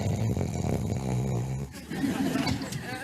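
Joey from Friends snores loudly in rough, rumbling pulses, which give way to a short pause and then more murmuring sound.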